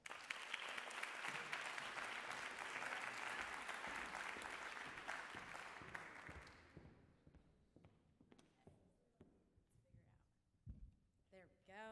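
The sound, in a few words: applause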